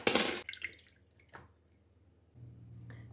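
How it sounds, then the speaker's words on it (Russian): An egg cracks sharply into a bowl, followed by a few soft drips and squishy sounds before a low hum. "В миску отправляю 3 яйца"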